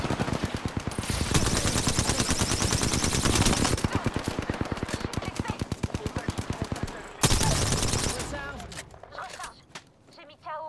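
Rapid automatic gunfire from the battle royale game Apex Legends, loud and sustained in dense bursts with a short break, ending in scattered quieter game sounds.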